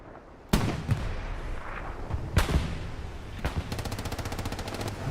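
Puma tank cannon fire in a large multiplayer combat video game: several loud, sharp booming shots spaced a second or two apart over a busy battle din, ending in a rapid rattling burst of automatic fire, with no talking.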